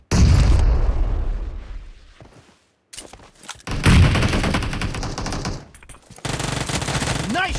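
Loud, close bursts of automatic gunfire and explosive booms in the battle-royale video game PUBG, coming in rapid volleys with one brief lull before firing resumes at full intensity.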